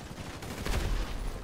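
A brief, loud burst of rapid gunfire from a GTA survival shootout, close and continuous with a low thump underneath.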